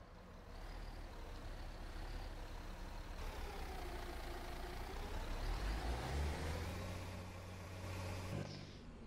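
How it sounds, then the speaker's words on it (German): A bus engine in the OMSI 2 bus simulator cranks and starts, then settles into a steady diesel idle, with a rising whine and a brief hiss of air near the end; faint overall. "Und dann schmeißen wir mal den Motor an."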